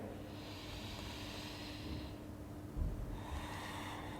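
Slow, deep breathing during a full-body mobility routine, a soft near breath with a faint low hum behind it and one fuller exhale snort partway through, no talking.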